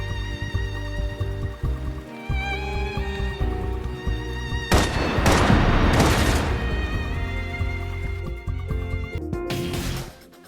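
Suppression gunfire in the sci-fi video game Love and Deepspace: layered booms and thumps over a tonal music bed, with a dense burst of rapid shots in the middle.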